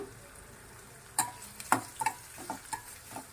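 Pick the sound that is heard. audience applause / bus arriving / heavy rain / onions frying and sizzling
onions frying and sizzling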